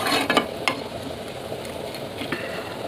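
Cauliflower and fried prawn curry simmering in a pan, giving a steady soft sizzle with a few sharper clinks and stirring knocks early on, close and alone without talk.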